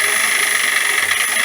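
A wood lathe runs at around 1,000 revs, a steady mechanical whine with a constant high tone and broad hum, continuous at speed, with no voices.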